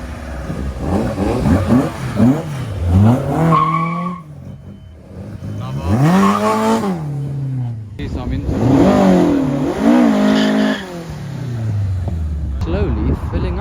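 A Ford Escort drifting its rear end at a classic car show revs hard in rising and falling engine surges, with possible tyre squeal, loud and fairly close, while people talk nearby.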